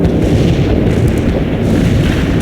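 Artillery strike in a war video game, a very loud, continuous barrage of booming explosions packed tightly together, thick low rumble with crackling bursts and no pause over a couple of seconds.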